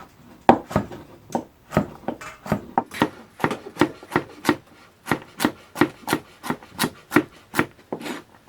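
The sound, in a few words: knife chopping carrot at an angle on a wooden board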